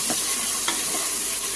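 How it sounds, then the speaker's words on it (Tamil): Biryani ingredients with onion, tomato and chili are stirred in a hot pan, a loud constant sizzle broken by the scrape of a spoon. "நல்லா போட்டு கிண்டுங்க."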